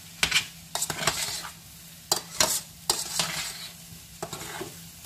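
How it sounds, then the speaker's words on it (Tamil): Hot plantain peel being stirred with spice powders in a pan, a metal spoon scraping and clinking in quick irregular strokes over a light sizzle, close and fairly loud, with no talking. "இந்த வாழைக்காய் சூட்டோடையே நாங்கள் இந்த தூள் எல்லாம் சேர்த்து நல்லா மிக்ஸ் பண்ணிடணும்."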